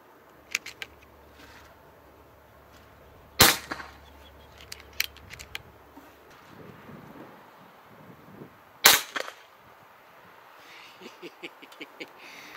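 A PCP air rifle fires Spot On Vortex 5.5mm (.22) 14.66 grain pellets, giving two sharp, loud cracks several seconds apart with faint mechanical clicks and handling noises in between.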